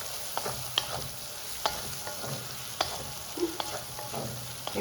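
Boiled potato is sautéed with spices in a pan for masaledar mixed-vegetable sabudana khichdi, with a constant sizzle and regular spatula scrapes and taps heard up close; nobody talks.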